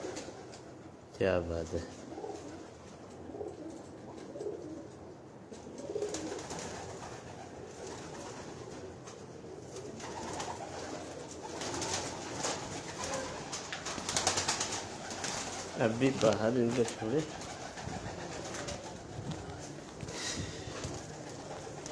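Pigeons coo intermittently on a Karachi rooftop, soft low calls recurring under frequent close conversation between men.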